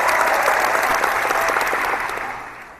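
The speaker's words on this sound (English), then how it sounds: "We definitely got to throw a round of applause in effect for that." A dense round of applause from a crowd, steady and full for about two seconds before tapering off toward the end, with no voices standing out.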